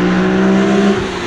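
BMW M Roadster fitted with a Remus exhaust revs hard and close, a loud sustained engine roar with steady low harmonics that drops off near the end.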